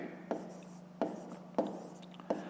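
Pen strokes on paper while a math exercise is worked out, four soft, brief scratching taps spaced about half a second apart, quiet and close.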